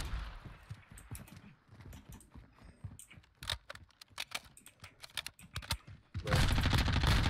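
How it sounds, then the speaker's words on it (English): Gunfire in Modern Warfare 2 Gun Game comes in a run of sharp, rapid cracks at irregular intervals, followed by a louder sustained burst at the end, with no talk over it. "That's a shotgun."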